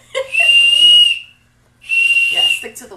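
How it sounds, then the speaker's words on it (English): Two loud, shrill blasts of a whistle sound close by, each lasting about a second, with a brief pause between them and short breathy bits around the blows. "But yeah, stick to the whistle."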